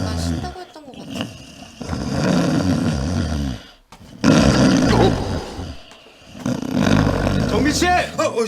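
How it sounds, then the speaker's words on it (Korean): A person napping in a workplace on-call room snores very loudly, with heavy, rumbling, roar-like breaths in three long surges separated by brief pauses. "코를 엄청 고네"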